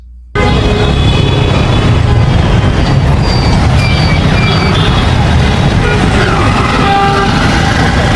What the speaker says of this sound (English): this was traffic from Dhaka, Bangladesh